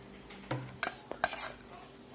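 Semolina batter for dhokla being whisked in a bowl, with a few scattered clinks and scrapes of a utensil against the dish, soft and close, no voice.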